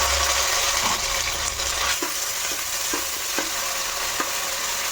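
Onions and ginger paste fry in a pan with a loud, steady sizzle, broken by a few light scrapes of stirring, with no voices.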